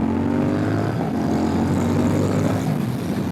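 Honda Rebel 1100 motorcycle pulling steadily in second gear, a loud, continuous engine drone with low rumbling harmonics, close and alone for the whole span.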